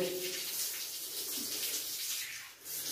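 During wudu, water runs and splashes steadily as hands are washed up to the elbows, a close, continuous hiss and patter with no talking.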